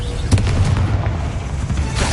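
A Bombarda spell in Hogwarts Legacy bursts into a loud, heavy, rumbling explosion that sustains throughout, with a small pop near the start.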